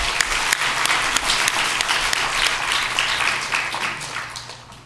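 A church congregation applauds during a Sunday worship service, a dense sustained wash of many hands clapping at full strength before tapering off toward the end.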